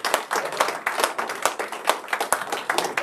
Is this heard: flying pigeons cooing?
no